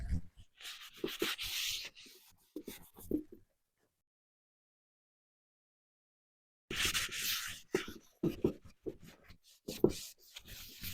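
Light rubbing over a furniture finish to scuff it, soft scratchy strokes in short bursts, a long silent gap, then more rhythmic rubbing close up.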